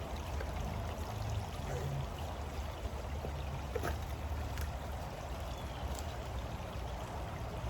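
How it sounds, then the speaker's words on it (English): Water from a small waterfall runs into a flowing stream in a continuous soft, even trickle and splash, heard from a little distance with no voices. "what I'm going to do is fill it up in the little waterfall down there."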